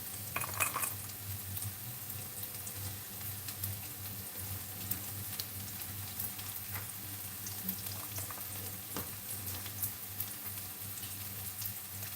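Cumin and whole mustard seeds fry in hot oil, giving a steady low sizzle with faint scattered pops and a few clinks of a utensil against the pan throughout, with no one speaking.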